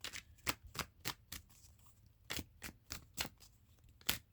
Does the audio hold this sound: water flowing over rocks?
no